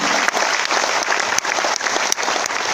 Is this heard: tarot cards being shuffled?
no